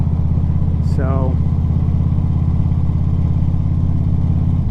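Steady engine drone of a Triumph Bonneville motorcycle being ridden, loud and constant from start to finish, with someone talking over it.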